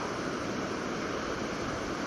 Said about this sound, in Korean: 오늘 파도가 좋아가지고 진짜 서핑 타기에는 딱 좋은 날씨긴 하다